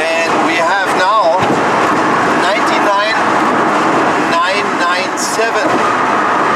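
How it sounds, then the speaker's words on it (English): Roaring wind noise fills the cabin of an early Tesla Roadster driving on the I-10 HOV lane, a loud steady rush under continuous talk from people inside. "it's a little bit louder in this Tesla, one of the first ones. There's a lot of wind noises"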